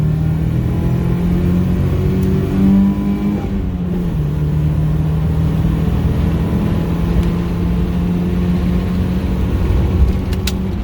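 A Geo Tracker's small engine drones and strains as it accelerates onto a freeway, a loud continuous rumble rising through the gears with a brief shift dip, road noise filling the cabin and no talk.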